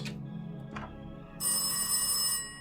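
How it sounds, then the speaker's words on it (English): A telephone rings inside a detective video game, a sharp electronic bell sounding in two short bursts and then one sustained ring of about a second over a low musical backdrop, with no voices. "Ah, the phone again."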